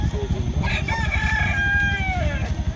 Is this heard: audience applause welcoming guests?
no